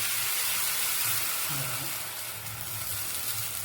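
Dosa batter poured onto a lightly oiled pan over low heat gives a steady, close sizzling hiss throughout, with a faint low hum underneath.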